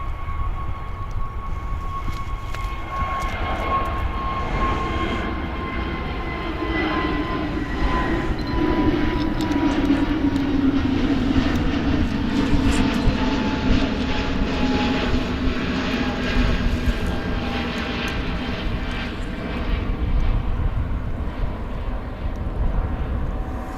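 A Scandinavian airliner takes off from Manchester runway 23 as a loud, sustained jet roar with a whine that slowly changes pitch while the aircraft passes and climbs away.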